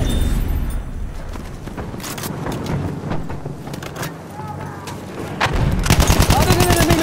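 Rapid machine gun bursts crackle amid explosions and wind in Battlefield 1 game combat, with shouting voices layered over a dense battlefield rumble and a sustained stuttering volley near the end.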